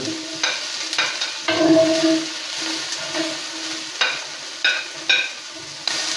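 Onion frying in a hot cast iron pot, a close crackling sizzle with bursts of stirring and scraping recurring every second or so, no talk.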